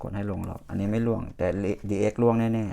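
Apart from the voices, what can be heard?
No everyday noises stand out.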